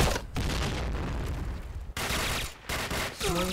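Gunfire in the PointBlank online shooter, with dense overlapping shots and a rapid burst filling most of the moment, brief gaps between volleys, and a faint tonal game sound near the end.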